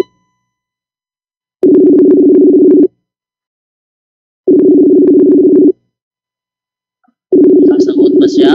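A phone call's ringback tone sounds in three loud, steady buzzing bursts of about a second each, separated by silence, with a voice starting to talk at the end of the last burst.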